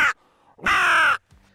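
A single long, harsh caw voiced by a man imitating a crow, loud and close, preceded by the tail end of an earlier call.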